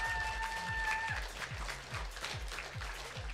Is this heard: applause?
yes